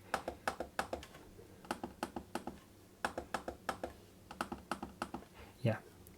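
Sharp, crisp trackpad clicks on an ACEMAGIC X1 dual-screen laptop, repeating in quick irregular bursts, close up and fairly quiet, with no talking.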